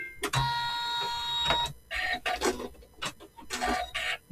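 An embroidery machine stitches a quilt, giving irregular mechanical clicks, tones and short whirring bursts nearby at moderate loudness.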